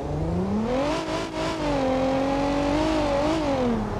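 A police car in BeamNG.drive pulls away from a dead stop, its engine note climbing steadily through the gears with a brief dip between shifts, loud and close with no one talking.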